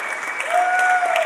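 Live audience applauding inside Alumni Chapel on Southern's campus during a special live edition, with steady dense clapping throughout and a faint whistle or tone rising over it, no talk.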